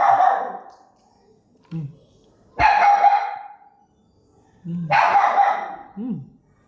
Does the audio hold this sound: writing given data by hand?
no